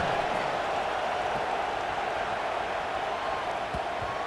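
Broadband stadium crowd noise in the EA Sports College Football 26 video game, at the kickoff in a Carolina vs Auburn game, as a steady roar of cheering that holds at an even level throughout.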